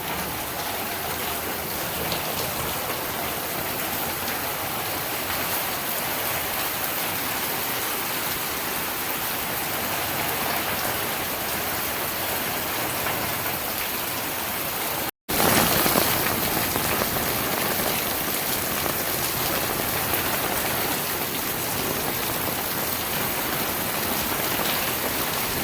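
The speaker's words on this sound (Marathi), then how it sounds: "तुम्ही पाहू शकता माझ्या मागे खूप दिवसानंतर पाऊस येत आहे." Sudden summer rain falls after a long dry spell: a dense, steady downpour hisses evenly throughout, with a brief dropout near the end before the same heavy patter resumes.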